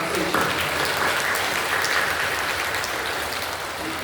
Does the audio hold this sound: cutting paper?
no